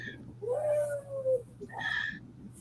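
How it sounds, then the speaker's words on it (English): A large 24-pound Norwegian forest cat meows twice nearby, a long drawn-out rising and falling meow followed by a shorter higher call, over a low background hum. "I apologize if you're hearing the meowing in the background. I have a 24-pound Norwegian forest cat"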